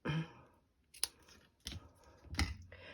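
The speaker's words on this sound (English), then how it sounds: "I'm going to take another piece of that ribbon and cut it" Scissors snip through a piece of ribbon during card making, several sharp, close clicks and cuts spaced out with quiet gaps between them.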